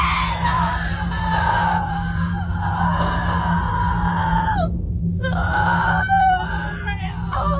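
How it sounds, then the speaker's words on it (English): Security camera recording inside an empty house over Christmas, catching drawn-out, wailing scream-like cries in fear or pain that rise and fall over a steady low electrical hum. "The audio from the camera sounds like someone screaming in fear or pain"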